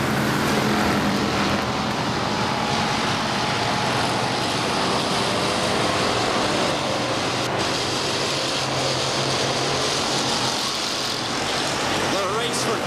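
Pure Stock cars race in an A feature on the dirt oval at Salina Highbanks Speedway, a steady roar of several engines droning continuously at a distance with crowd and track ambience, under announcer commentary.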